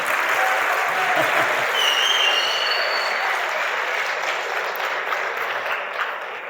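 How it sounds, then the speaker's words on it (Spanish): Dense applause from a crowd at a motivational talk for young people, loud and sustained throughout with no break, the noisy wash of many hands steady from start to finish. "Un aplauso para Michael"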